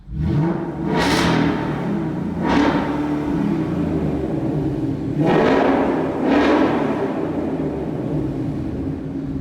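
In track mode, the Corsa Extreme active exhaust on a 2019 Ford Mustang GT snaps through four sharp, loud throttle blips, each a quick rasping rise and drop over a deep, rumbling idle.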